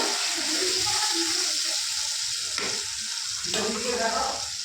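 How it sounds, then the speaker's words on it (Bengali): Mustard paste and a splash of water go into a hot pan for a hilsa fish curry, a steady close sizzle swelling with brief splashing bursts as the liquid lands, no voices over it. "এবার এই বাটাটা আমি ঢেলে দেবো, আর একটু জল দেবো"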